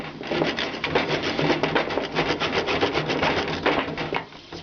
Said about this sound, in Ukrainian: Беру пилку відпилюю.